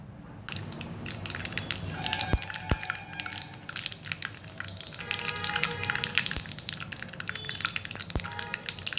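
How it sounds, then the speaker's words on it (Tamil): Mustard seeds splutter in hot oil while arai keerai kadaiyal is being cooked, a steady close sizzle scattered with sharp pops and crackles that continues throughout. "கடுகு நல்லா பொரியுதுங்க."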